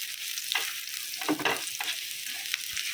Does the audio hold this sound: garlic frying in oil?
yes